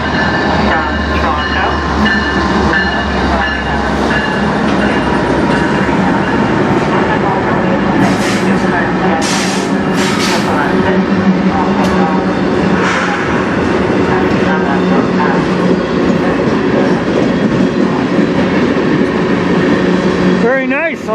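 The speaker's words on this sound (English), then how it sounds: "Nice. Train" A long CN freight train of box cars rolls past close by on the Strathroy Sub in Sarnia, Ontario, a steady rumble with wheel clatter and brief high squeals, and someone speaks over it near the end.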